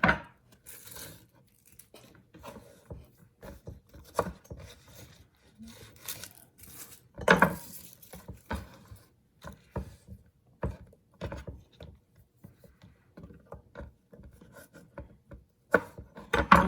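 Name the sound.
trimming rinsed vegetables with a knife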